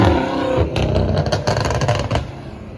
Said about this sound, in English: And the M5 making a tremendous amount of noise.